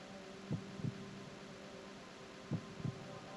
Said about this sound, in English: Snake's heartbeat is really slow